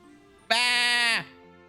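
A goat in the video game Atelier Ryza gives one loud, clear bleat lasting under a second, rising sharply and then trailing off, with nothing else around it.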